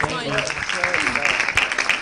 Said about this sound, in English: Please, everyone, let's clap for Toby